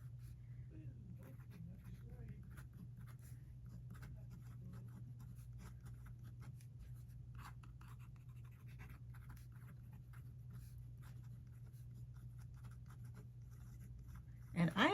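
A TWSBI 580 Iris fountain pen nib scratching across paper in close, quiet strokes, with short bursts and pauses of writing over a steady low hum and a louder rustle at the end.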